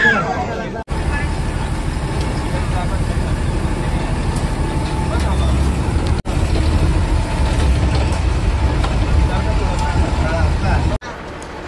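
An ST bus rolls into the Parola depot, its engine drone and rattling mechanical clatter steady and close, with brief sharp dropouts and a murmur of people nearby.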